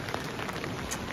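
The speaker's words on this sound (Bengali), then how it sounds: "বৃষ্টিটা হচ্ছে বলে প্রথম কথা আমি ভিজে যাচ্ছি" Rain falls steadily on the way to Darjeeling from Lamahatta, a soft, even patter spread across the whole moment, fairly faint, with no talk.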